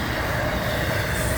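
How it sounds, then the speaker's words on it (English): A train rolls past on railroad tracks in a steady, dense rumble with a broad hiss on top, close and continuous for the whole short stretch. "This train is going to take miles and a half to stop"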